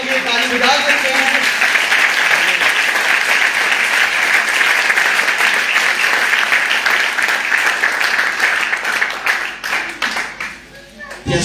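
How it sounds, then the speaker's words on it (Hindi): A church congregation claps loudly and continuously for Jesus during a bilingual sermon, the dense applause holding steady before thinning near the end, with a voice faintly audible. "Put your hand together for Jesus."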